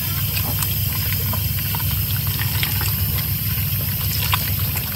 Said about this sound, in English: Then follow up with more water